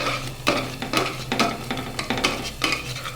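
A spoon stirs boiled mung dal with water in a pot, with repeated scraping and sloshing strokes in a steady rhythm, close up and without speech.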